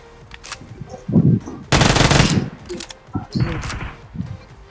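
Automatic gunfire from the PUBG Mobile video game, a couple of loud close bursts with sharp single shots around them, while a player talks over the gameplay.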